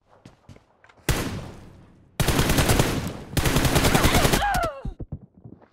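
Automatic gunfire in a team deathmatch shooter game, three long rapid bursts of close, loud shots separated by short pauses, with a faint whizzing tail after the last burst.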